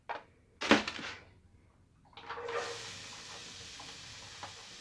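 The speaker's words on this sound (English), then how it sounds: "So I'm gonna saute this." Chopped onions, two of them, hit a hot pan and start to sauté, with a brief clatter and then a steady low sizzle that carries on close by, with no talking.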